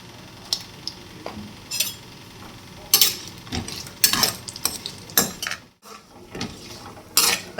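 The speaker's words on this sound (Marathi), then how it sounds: "आपण खोबरे थोडेसे गुलाबी रंग येस तोपर्यंत परतून घेऊयात" Grated coconut roasts in a little hot oil for bhogi bhaji, with repeated clinks and scrapes of a spoon against the pan over a faint, continuous sizzle.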